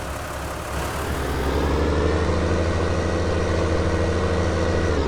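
Ford tractor in Farming Simulator 19 pulling a heavy load of hay, its engine droning loudly and steadily, swelling slightly in the first second and then holding a constant low rumble, with no talking.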